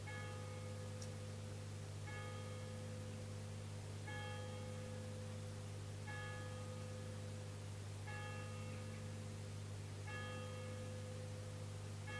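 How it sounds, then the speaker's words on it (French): A bell rings during a guided meditation session, sounding as faint, regular strikes about every two seconds with lingering tones over a steady low hum and background hiss, with no talk. "avec le son de la cloche"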